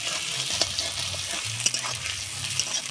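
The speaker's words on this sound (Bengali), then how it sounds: "পেঁয়াজটা একটু হালকা করে ভেজে নেব।" Chopped onion sizzling in mustard oil with bay leaves and cumin, a dense, close frying hiss with small crackles and a light stirring scrape, no voices.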